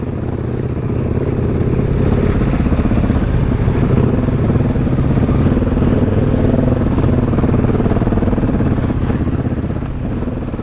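A KTM motorcycle ridden standing up through mud puddles on a French trail, its engine a loud steady drone close by with splashing clatter throughout.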